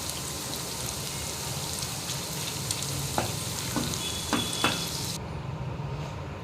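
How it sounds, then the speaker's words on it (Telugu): Chicken pakoda pieces deep frying in hot oil give a steady close sizzle, broken by a few sharp ladle stirs and scrapes before the sound cuts off abruptly near the end. "ఇప్పుడు ముక్క అనేది ఒకదానితో ఒకటి అతుక్కోకుండా గరిటెతో కలుపుతూ"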